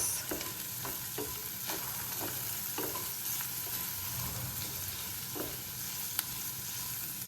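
Ingredients seasoned with chilli and salt frying in a pan with a constant close sizzle, punctuated by regular spoon or spatula taps and scrapes as they are stirred, no voices.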